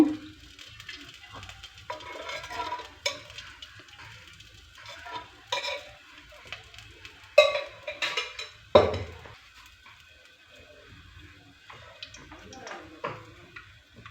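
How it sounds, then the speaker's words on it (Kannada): Oil sizzling steadily in a pan as whole spices fry for a paneer and peas masala, with intermittent spoon scrapes and clinks against the pan throughout, close-up and moderately loud. "ನೋಡಿ ಇದನ್ನ ಈ ಥರ ಚೆನ್ನಾಗಿ ಫ್ರೈ ಮಾಡ್ಕೋಬೇಕು"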